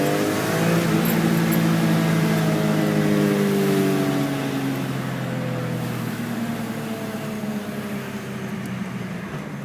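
An SMG car engine revving hard as it accelerates through paddle-shift gear changes, a loud close drone whose pitch climbs, drops at each shift and climbs again, with no talking.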